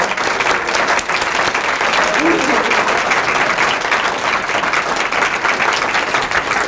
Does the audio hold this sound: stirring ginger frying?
no